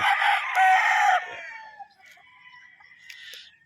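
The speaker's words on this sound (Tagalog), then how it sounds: "Ang daming gwapong manok." A rooster at a gamefowl farm lets out one loud, close crow lasting about a second, trailing off into fainter clucks and distant calls from other birds.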